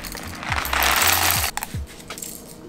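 A hand coffee grinder crunches espresso beans in a short close burst of ratcheting, gritty grinding that eases into a few scattered clicks.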